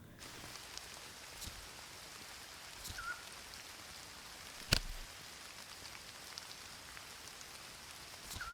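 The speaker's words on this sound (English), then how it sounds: "this level gives you sound effects of rain" Soft, steady rainfall from the nature level of the puzzle game Papercut Art Gallery, a faint, even patter of drops with one brief sharper tap partway through.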